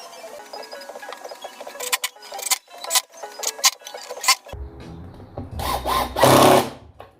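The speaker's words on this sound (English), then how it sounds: "the apron will be secured using pocket hole screws" A power drill drives pocket hole screws into a wooden tabletop apron in a series of short whirring bursts, followed by a louder, rougher grinding run near the end.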